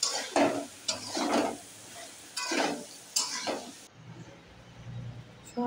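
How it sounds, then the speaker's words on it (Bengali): Mixed vegetable curry with green chilli being stirred in a pan, giving a series of scraping, sizzling strokes in bursts, close and moderately loud, with a softer low sizzle near the end. "কাঁচা লঙ্কাটা দিয়ে আবার কিছুক্ষণ নাড়াবো"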